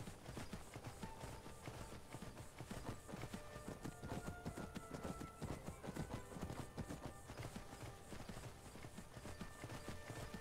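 Horse hooves clip-clop steadily in Skyrim, a quick, even patter of many hoofbeats that runs through the whole stretch over a dense game soundscape, with a brief whinny-like sound in the mix.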